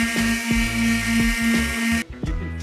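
Milwaukee sander fitted with a mesh sanding sheet working the edge of a workpiece, a loud steady whine with rhythmic pulses that cuts off abruptly near the end.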